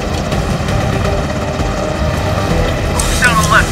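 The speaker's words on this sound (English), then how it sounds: "Helicopter clear!" A helicopter hovers with a steady, heavy rotor and engine drone during a SWAT rope-descent operation. The noise holds constant throughout while voices shout over it.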